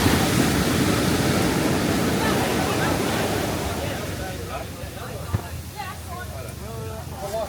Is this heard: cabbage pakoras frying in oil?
no